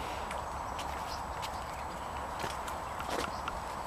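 Faint hoofbeats of a horse walking, sparse irregular clip-clop strikes over a quiet outdoor background, no clear talk.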